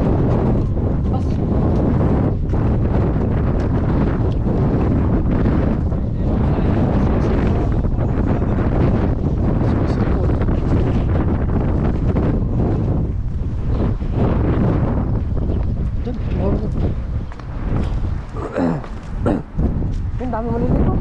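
Strong wind buffets the microphone on a fishing outing, a constant heavy rumble with gusty surges throughout, while people speak underneath it.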